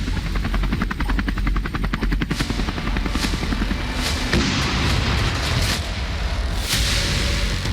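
Romeo submarine-hunter helicopter flying, a loud steady rotor thump with fast chopping beats early on, continuous broadband roar throughout and occasional sharper bursts, no talk.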